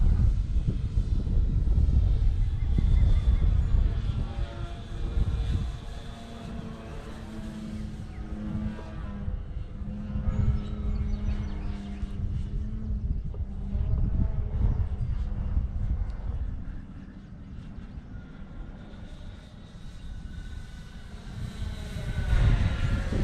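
An electric Hobbyking Big Red Stearman RC model biplane in flight, its motor giving a steady whine that swells and fades as it passes, loud at first, easing off in the middle, then rising again near the end, with no talking.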